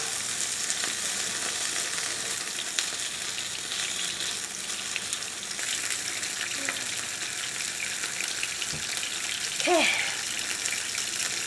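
Mushrooms fry in a pan, heard as a steady close hiss and sizzle lasting throughout, with a few faint clinks and a brief squeaky scrape near the end.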